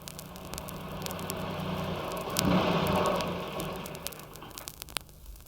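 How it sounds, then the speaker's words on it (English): The mayoral car pulls up, its engine a steady rumble that swells as it draws near and then settles, with a faint ticking and a brief click near the end; no one speaks. "before the mayoral car arrives"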